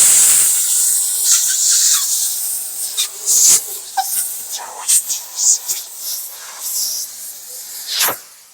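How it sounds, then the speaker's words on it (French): A steam cleaner blasts wet steam carrying a no-rinse polymer shampoo onto a car wrap in a series of loud, short hissing bursts with brief pauses between them. "j'ai pulvérisé de la vapeur humide, donc de la vapeur avec un shampoing polymère sans rinçage dedans"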